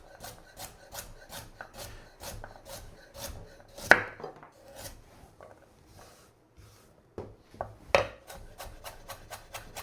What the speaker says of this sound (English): I'll just cut up the carrot.